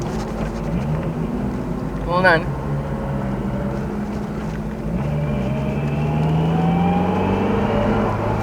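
Vintage Ford Mustangs run on a race track, a smooth engine drone rising and falling steadily under someone talking, with a brief sharp pass near the start.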